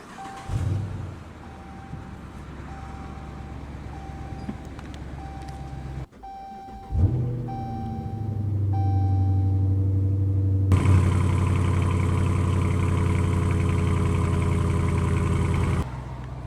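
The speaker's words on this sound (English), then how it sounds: "let's go ahead and start that Hemi up" A 2018 Dodge Charger R/T Hemi V8 cranks and fires with a loud burst, then settles into a steady, throaty idle that swells louder partway through. No one speaks.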